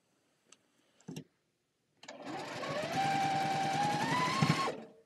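A sewing machine runs in one steady stitching burst of about three seconds, its motor whirring and rising slightly in pitch, after a few soft handling clicks and a short rustle.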